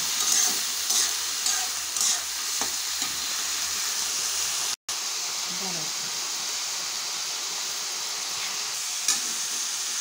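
Capsicum and broccoli fry for sabudana pulao in a strong, constant sizzle heard close up. A split-second dropout breaks the hiss midway, and a voice murmurs faintly underneath.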